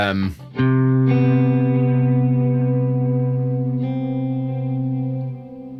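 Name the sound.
electric guitar major seventh chord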